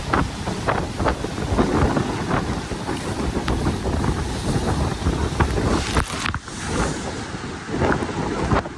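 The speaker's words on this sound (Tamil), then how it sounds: "அந்த மணலில் அடித்து காற்று கடல் தண்ணி வந்து மேலே பாயிற அந்த காட்சியை" Strong coastal wind buffets the microphone while sea water surges and splashes over sand near the Naguleswaram temple area in Jaffna, a steady roaring wash of waves and gusts throughout, dipping briefly before the wind picks up again.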